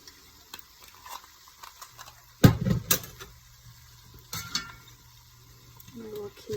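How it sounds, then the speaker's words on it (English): Ground turkey and cabbage stirred in a pan of olive oil, with intermittent scraping and clattering strokes, a couple of louder knocks midway, and a low steady sizzle underneath, fairly close. "I will keep stirring this and cooking this for a bit"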